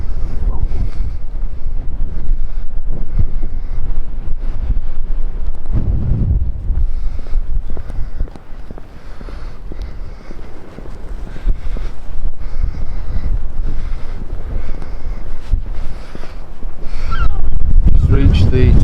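Strong, gusty wind buffets the microphone on a clifftop walk near a caravan park at Filey, a continuous loud roaring rumble that swells and dips without pause.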